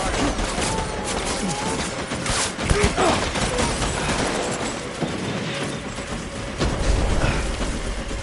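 Dense, continuous gunfire from the video game Death Stranding, with rapid overlapping shots and crashing impacts forming a loud, unbroken barrage throughout, while a voice speaks briefly over the chaos.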